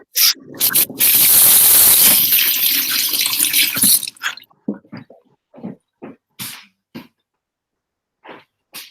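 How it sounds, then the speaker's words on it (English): Hands are washed under a running tap, with water gushing steadily for about three seconds, then a series of short, close wet rubbing and dripping sounds after the flow stops. "And then you need to wash your hands."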